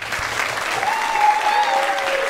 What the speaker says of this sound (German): Deswegen von mir einen warmen Applaus für euch,